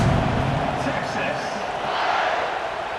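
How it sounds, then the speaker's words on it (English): Dense stadium crowd noise swells and roars during a college football playoff game after a scoring drive, a steady loud wash with rising cheers and a voice talking over it. "this crowd is feeling themselves after that last drive."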